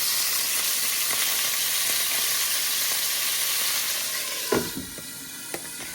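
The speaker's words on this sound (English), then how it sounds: "our burgers right on there and let them start cooking" Hamburger patties sizzling in a hot pan as they begin to cook, a steady close hiss of frying fat, with a couple of brief knocks and clicks near the end.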